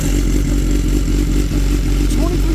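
A fully warmed-up motorcycle from a large collection runs close by in a loud, steady, rumbling drone with no pauses, its engine note filling the whole stretch.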